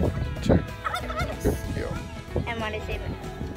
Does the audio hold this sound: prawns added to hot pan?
no